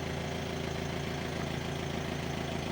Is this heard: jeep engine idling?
yes